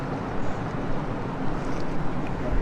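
Water is poured steadily over a body during ritual washing of the deceased, making a continuous, close, rushing splash with no pauses.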